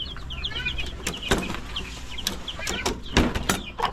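A rooster and hens in a backyard coop clucking and chattering close by, with overlapping calls and a few louder squawks over a low background rumble, no talking.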